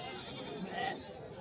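Goats, including billy goats, at the Sangola goat and sheep market give a brief bleat, fairly faint, over the general background noise of the crowded market.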